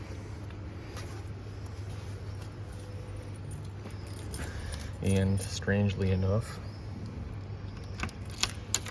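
Keys jangle and rattle briefly in a door lock in Florence, Italy, over steady background noise, a short cluster of metallic clinks, while a person speaks.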